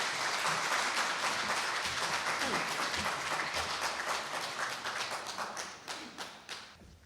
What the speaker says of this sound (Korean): 여러분 박수로 교수님 맞아주십시오